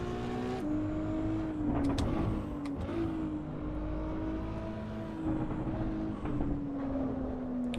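A V6 hybrid race car in the Assetto Corsa Evo video game at Brands Hatch, its engine droning steadily with pitch rising and falling through shifts and corners, loud and close, with no voices.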